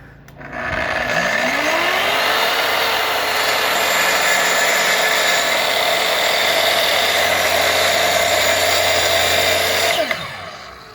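A Kreg track saw plunges just barely into the top surface of a wooden board for a shallow skim cut, its motor whining up sharply, holding a loud steady high-pitched drone for about nine seconds, then winding down at the end, with no talk.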